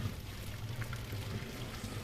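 Hot water being poured out of a pot to strain cooked food during dinner prep, heard as a steady, close splashing pour with no talk over it.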